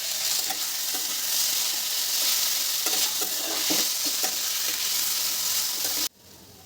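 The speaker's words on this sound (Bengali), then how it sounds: "যখন আলু আর কচুটা একটু ভাজা হয়ে আসবে তখন আমি এই পেস্টটা দেব" Potato and taro pieces fry loudly in oil for a fish curry, with a continuous sizzle and repeated clattering stirs against the pan before the sound cuts off sharply.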